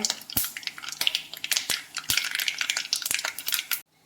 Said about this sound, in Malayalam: കടുക് മുഴുവൻ പൊട്ടി വരട്ടെ